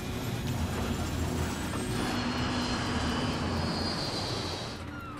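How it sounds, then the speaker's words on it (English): An airliner's engines roar as the plane loses altitude and falls from the sky over Queens, a loud, continuous broadband rumble with a thin high whine laced through it, easing slightly toward the end. "The plane is losing altitude and falling out of the sky."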